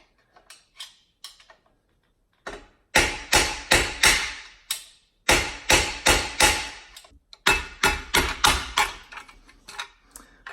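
Hammer striking a flat screwdriver to break a weld, sharp metallic blows in rapid bursts of four to five, loud and close, after a few lighter taps.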